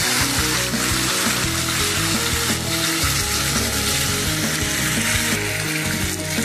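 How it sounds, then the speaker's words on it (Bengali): Potatoes sautéing in hot oil with salt and turmeric in a kadai, a loud, continuous close-up sizzle with stirring clatter and thumps of a spatula against the pan. "আলুটা দিয়ে আমি একটু কষিয়ে নেব"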